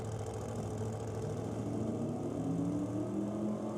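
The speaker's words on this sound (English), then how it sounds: "Once again, you hear the turbo car building the boost." Turbocharged drag racing car at the start line of a nitro championship meet, its engine holding a steady, loud rumble with rising tones as boost builds, continuous throughout.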